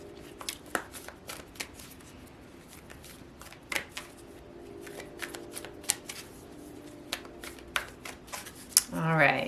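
An Ask Your Guides oracle card deck is shuffled by hand, with a string of crisp, irregular card flicks and riffles, some sharp and close, and a voice faintly present in the background.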